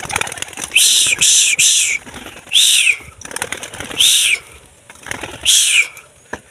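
Young lovebirds being released flap their wings in several loud, bright bursts, with short quiet gaps between the flurries of fluttering.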